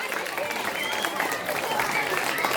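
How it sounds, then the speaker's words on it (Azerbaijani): An audience at a regional freestyle wrestling event in Qakh applauds to welcome a dance group, steady clapping filling the hall from start to finish, with a voice heard faintly over it. "Rəqs qrupunu bir alqışla qarşılayaq."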